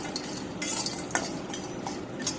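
Dried fish (shutki) frying in oil, heard as a faint, close sizzle with intermittent scraping and stirring clinks of a utensil against the pan, no talk present.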